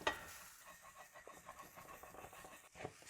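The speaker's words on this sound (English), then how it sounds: "scrape more of these sticky caramelized bits off the bottom of the frying pan" A spoon scrapes and stirs sticky caramelized bits off the bottom of a frying pan of vegan bolognese, soft continuous scratching with a light sizzle, fairly quiet and alone.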